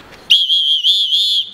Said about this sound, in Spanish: Es un puto silbato